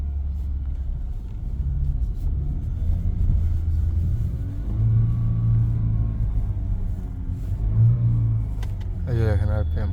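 A Honda Vezel Hybrid with a DCT gear fault gives a steady low engine rumble that swells and rises as it revs without the car moving, heard fairly close.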